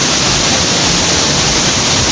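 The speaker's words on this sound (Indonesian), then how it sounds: "Lebih dekat dengan air terjun," Seganing waterfall in Bali roars steadily from close range, a dense, loud, unbroken rush of falling water with no voices.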